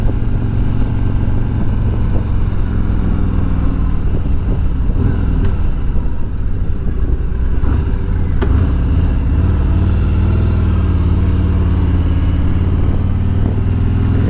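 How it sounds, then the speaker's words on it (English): A stock 2020 Harley-Davidson motorcycle exhaust rumbles with a deep, continuous low drone as the bike rides along at changing speeds, loud and close throughout. "it'll give you an idea what the exhaust sounds like on a stock motorcycle at different speeds, different RPMs"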